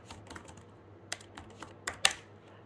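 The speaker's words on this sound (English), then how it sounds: "I'll just type this in." Quiet keystrokes on a computer keyboard tap out a short command, an irregular patter of soft clicks ending in a few sharper presses, close and alone.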